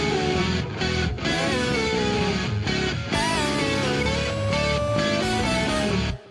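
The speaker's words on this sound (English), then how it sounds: "This is what Joe gets when I send him tracks" Mixed studio tracks of guitar, keys and bass with no drums, playing continuously at full level with dense sustained chords and melodic lines, then cutting off abruptly at the end.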